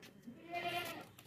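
A tall dairy goat at a goat market gives a single clear, nearby bleat that rises and falls over about a second, with no voices over it.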